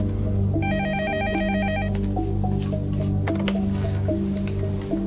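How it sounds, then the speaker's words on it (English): A telephone rings with a warbling electronic trill over a steady musical background, a short burst followed by fainter ring tones. "It's ringing."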